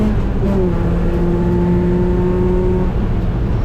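A race car engine on track at GingerMan holds a loud, steady droning note close up, with a slight shift in pitch near the end and no voices.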